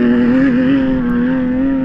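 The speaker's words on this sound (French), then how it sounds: "Voiture mythique de Ford, la fameuse Capri." A Ford Capri rally car on a gravel rally stage in Vaucluse roars past close and loud, its engine a sustained steady tone with slight pitch wavering over a brief pass.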